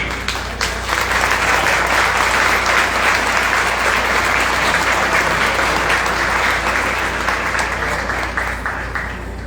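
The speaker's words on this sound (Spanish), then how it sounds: "quiero pedir un aplauso para doña Mary" An audience at a book presentation applauds the author, a dense, sustained burst of clapping that swells quickly, holds for several seconds, then begins to taper, with no speech over it.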